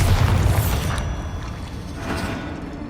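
A Bombarda explosion spell from the Hogwarts Legacy video game booms loudly right away, then rumbles and crumbles through a long decaying tail, with a smaller swell near the end.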